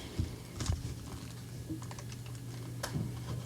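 A knife slitting the plastic shrink-wrap on a CD case, with scattered short crinkling scrapes and taps close to the mic over a steady low hum.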